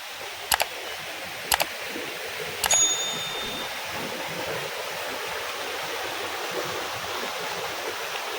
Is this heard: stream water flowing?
yes